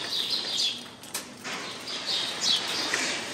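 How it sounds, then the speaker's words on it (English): Birds sing outdoors at a garden center, with bright high chirps and trills repeating over a steady background hiss. They sound moderately distant, with no talking. "So the birds are singing. Can you hear the birds?"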